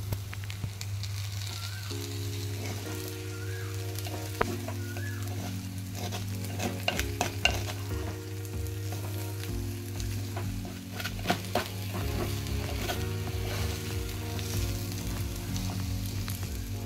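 Vegetables sauté in a pot for a multi-millet dalia khichdi, with a steady sizzle and repeated stirring scrapes and clinks of the spoon against the pan, alongside a constant low hum and a faint melodic tone in the background.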